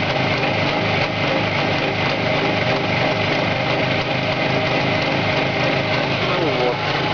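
A Jawa 638 two-stroke motorcycle engine runs steadily close by, with a buzzy, high-pitched whine that holds throughout, while someone speaks over it.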